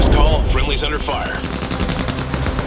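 Heavy gunfire from a battle in the video game Crossfire Legion, a loud continuous stream of rapid machine-gun shots with booming low impacts, while voices call out over the shooting.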